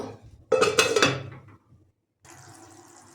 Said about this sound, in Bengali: আবার ঢাকনা দিয়ে দেব